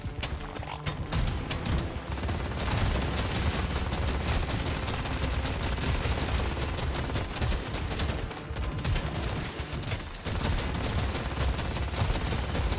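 Video game shooter gunfire rattles in dense, rapid bursts with mechanical clanks, continuous and loud, pausing briefly only a couple of times.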